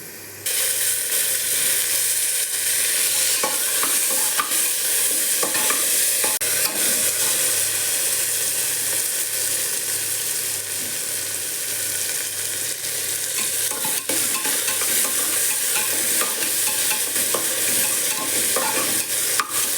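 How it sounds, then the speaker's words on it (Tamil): Tomatoes stirring and frying in hot oil with turmeric for a village-style ridge gourd kadayal, a steady close sizzle with frequent scraping stir strokes running throughout, no voices. "எண்ணெயில் போட்டு வணக்கி எடுத்துருவோம்"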